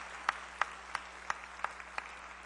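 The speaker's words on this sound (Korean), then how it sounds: "우리 마르다 선교회 일단 힘차게 박수 한번 드립시다" A church congregation at a Martha mission group dedication service gives a few slow, sparse claps, about seven distinct evenly spaced hand claps over a low steady hum.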